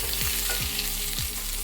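Green chilies frying in hot oil for ragi adai, a steady loud sizzle broken by a few soft scraping stirs, with no talking.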